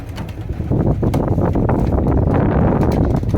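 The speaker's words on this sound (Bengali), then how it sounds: "আর এই পাশে আমাদের মাদি কবুতরগুলা" Female pigeons kept in a cage give off low, murmuring coos mixed with rustling and soft bumps, a dense, continuous sound with some wind noise on the microphone.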